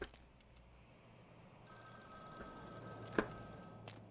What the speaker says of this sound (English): Phone's ringing on the wall, nobody's here.